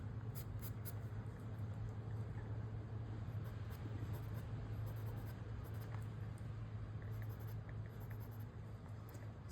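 Pencil shading darkens the pupils of a portrait drawing on paper, a steady close scratchy rasp of graphite strokes that continues without pause under a faint low hum.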